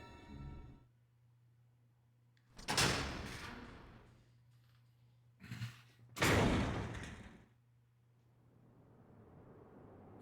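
Doors in the survival horror game Resident Evil Zero open and slam shut, with two loud bursts a few seconds apart over a low steady hum. Each burst has a shorter thud just before it, and no one speaks.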